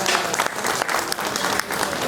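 A crowd at a Telangana political-cultural gathering applauds a singer, loud sustained clapping from many hands with a few sharper claps.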